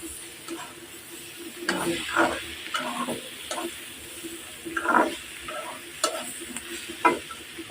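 Bitter gourd (karela) and egg fry in a home kitchen pan, with soft continuous sizzling beneath repeated scraping strokes of a spatula stirring, each stir a short clattering burst at close range, no talk.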